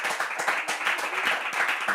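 Audience applause during the final of a Bible quiz show, a fairly faint, steady patter of many hands clapping throughout a brief stretch with no talking.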